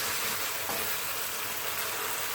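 Mushrooms fry in hot oil for a vegetable madras curry, giving a steady, even, close-up sizzle with no talk.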